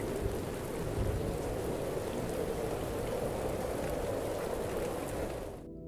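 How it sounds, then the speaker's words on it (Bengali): Heavy rain pours steadily with a deep rumble of thunder underneath, dense and continuous throughout. "তা হঠাৎই শুরু হলো ঝড় বৃষ্টি।"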